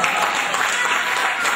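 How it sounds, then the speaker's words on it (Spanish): An audience applauds at an evening gathering, a dense sustained wash of many clapping hands throughout. "Fuerte el aplauso a Santiago."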